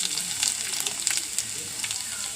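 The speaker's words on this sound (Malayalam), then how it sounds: "എണ്ണ ചൂടായി കടുക് ഇടണം, ഉലുവ ഇടണം," Mustard seeds, fenugreek and ginger sizzle in hot oil in a pan, a steady close crackle with small pops scattered through it.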